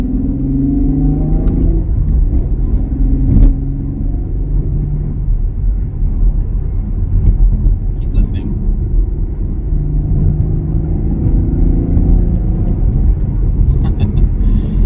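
A Chevrolet Camaro engine rumbles and growls low and steady from inside the car as it accelerates, with someone speaking briefly over the drone.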